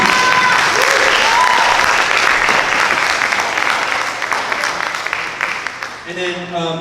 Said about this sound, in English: Yeah, round of applause for you.